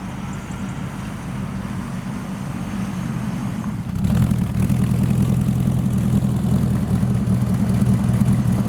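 Gardner Douglas kit car with a Chevrolet V8 approaches with a deep, rumbling low engine note that steps up in loudness midway and then holds steady and close.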